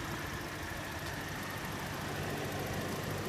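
A quiet, steady 2012 Holden Captiva LX engine idles with a soft, even hum and no other sounds.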